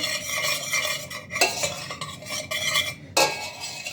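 A spoon stirs thick, paste-based noodle sauce in a pan, with a continuous close scraping and clinking of metal and brief louder knocks against the pan. No voices are heard.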